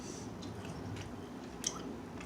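Someone chewing an almond flour chocolate chip cookie, with quiet soft mastication and one brief crunchy bite near the end, no talking.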